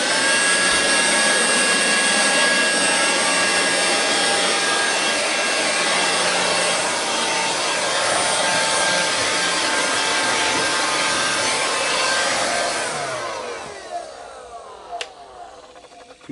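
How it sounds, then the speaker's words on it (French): A battery-powered fan blowing dust roars loud and steady close by for most of the time, then winds down and fades out near the end. "je mets un petit coup de ventilateur"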